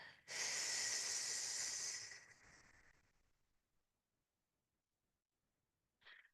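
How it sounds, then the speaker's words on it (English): A slow, strong exhalation of breath lasting about two seconds and trailing off, then near silence, with a brief start of another breath at the end. "Breathe in and out."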